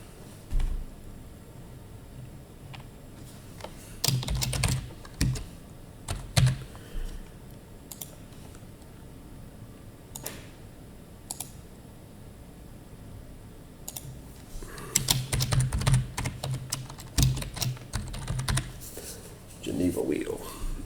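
Typing on a computer keyboard in CAD software, with scattered bursts of close key clicks and mouse clicks, the densest flurry near the end, between stretches of quieter room sound.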